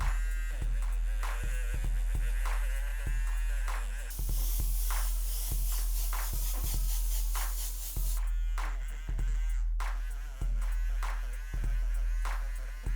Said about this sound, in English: right in close with the electric eraser to create those nice thick skin textures